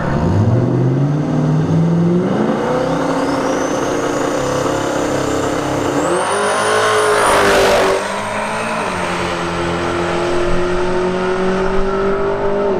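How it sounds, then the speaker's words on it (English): Drag racing car making a single pass down the left lane at a drag strip during a street shootout class event, engine loud and close, revving up through rising gear pitches with shifts and a brief drop, then holding a steady roar. "We're going to come up for a single shot next on the left-hand side of the racetrack."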